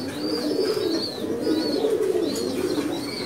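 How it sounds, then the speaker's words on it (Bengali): Pigeons coo repeatedly in a breeding loft, overlapping rounded calls forming a steady, fairly close chorus with a few higher chirps above, no talking. "খুবই সুন্দর কবুতর, খয়রি গলা কবুতর।"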